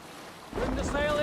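Viking longship under sail at sea in Assassin's Creed Valhalla: quiet ambience swells into a rush of wind, water and creaking sail with tonal game sounds rising over it, brief and fairly close.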